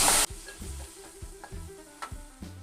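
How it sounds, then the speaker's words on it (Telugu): Chopped tomato pieces stirred in a hot pan, a short burst of sizzle giving way to soft, rhythmic scraping strokes of a spoon at low volume. "టమాటా ముక్కలు వేసుకొని కలుపుకోవాలి"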